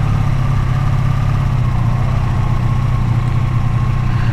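A Honda VF500F motorcycle engine idles close up with a steady, even low rumble that holds constant throughout, with no one talking.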